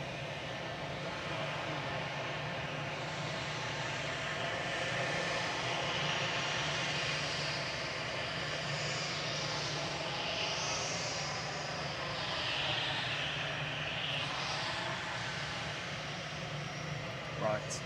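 Lufthansa Airbus A319 on flight 941 departing Manchester Airport for Frankfurt, a continuous moderate jet engine roar that holds steady, with a faint shifting whine over the drone.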